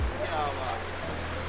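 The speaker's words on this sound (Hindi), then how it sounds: "पानी की आवाज़ तुम सुन सकते हैं" Water of a mountain stream near the Dhansar Baba temple and Shiv cave outside Katra, flowing as a steady, moderately loud rushing hiss with a brief low thump at the start.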